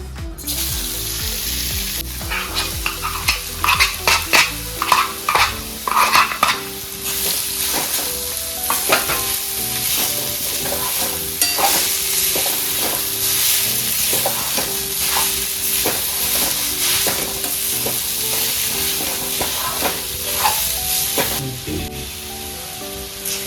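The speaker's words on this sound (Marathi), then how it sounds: "भोपळा चांगला तेलामध्ये परतून घ्यायचा" Grated pumpkin sautéed in a spoonful of oil in a hot kadhai, a steady loud sizzle throughout with repeated scraping and clinking of a spatula as it is stirred, no voices.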